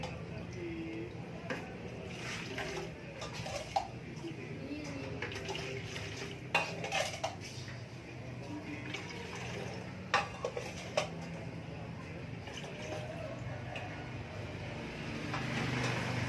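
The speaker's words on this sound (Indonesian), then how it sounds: "Sekarang kita akan kasih masuk telur bebeknya ke dalam wadah." Duck eggs lowered into a container of boiled salted water, heard as faint, scattered clinks and taps over a steady low background hum.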